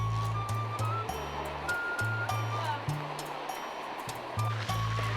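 A jungle tributary of the Baquari River in Costa Rica rushes and splashes continuously at close range, with low motor-like tones pulsing underneath.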